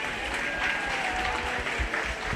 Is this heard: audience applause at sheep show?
yes